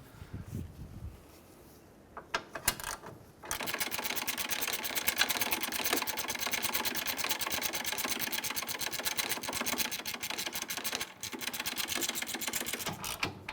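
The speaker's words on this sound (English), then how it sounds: "So now we're loosely going to snug everything up." Control arm bolts are snugged up on a 2015-2019 Hyundai Sonata with a rapid mechanical ratcheting or power-tool chatter, a dense continuous rattle running for about ten seconds after a few short starts, with a brief pause near the end.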